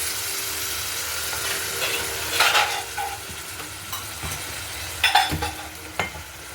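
Tomato paste sizzling in a pan for a bean curry, a steady frying hiss with occasional scraping stirs of a utensil, close and continuous.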